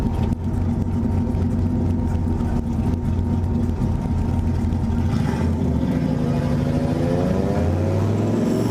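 Turbocharged Fox Body Mustang engine idling and burbling at a race, a steady loud rumble with a rising, revving tone in the last few seconds, close and alone without talk.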